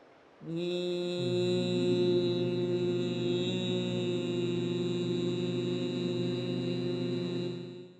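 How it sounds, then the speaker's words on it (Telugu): A person performs bhramari pranayama, the humming bee breath, producing one long, steady, nasal hum that starts abruptly, holds an even pitch for about seven seconds, then fades out. "ఈ యొక్క హమ్మింగ్ సౌండ్ చేయాలి"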